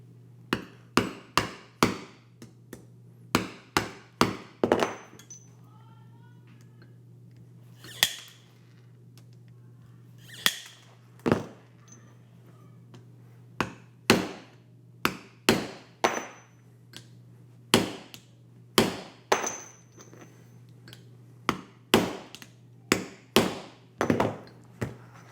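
Hammer blows on leather hardware while firefighter suspenders are made, roughly thirty sharp, loud strikes in irregular bursts and pairs with short pauses between groups, over a low steady hum.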